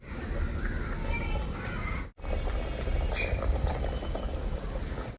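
A pot of goat trotter paya soup bubbling at a steady boil, a dense churning rumble with soft pops, briefly cut off partway through, with faint voices in the background.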